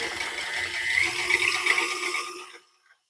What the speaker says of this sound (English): Now I will pour my heavy whipping cream into the mixer and mix it for just 3 minutes